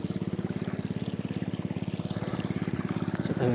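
A motor pump runs with a fast, steady rhythmic chugging while water flows from it into a paddy field, a continuous close pulsing drone with no talk.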